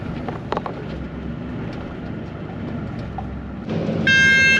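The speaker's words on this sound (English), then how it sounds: "Just got on the digger and the AdBlue alarm's going off." A digger's AdBlue warning alarm sounds as a steady electronic beeping tone near the end, loud and close, after a stretch of low engine idle and outdoor rumble.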